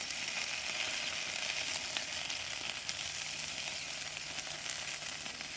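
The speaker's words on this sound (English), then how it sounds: "now my sausages are done. I'm just going to remove it from the pan" Sausages sizzle and fry in a pan at a bush campsite, a steady close hiss with faint crackles running throughout, no talking.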